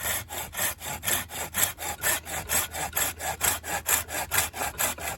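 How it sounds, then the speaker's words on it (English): A Corona folding saw cuts through a dry hardwood limb with steady, rhythmic push-pull strokes, about three per second, each a close, rasping wooden scrape with no talking. "we'll cut through this and we'll just go through this limb here. So let's see, we'll go with the Corona first."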